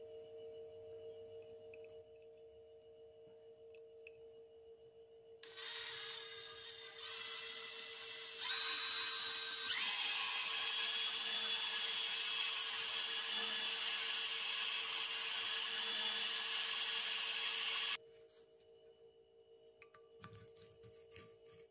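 A hone spins inside the valve guides of an MGB cylinder head lubricated with motor oil, a loud steady whirring grind that starts, builds for about twelve seconds over a background hum, then stops abruptly.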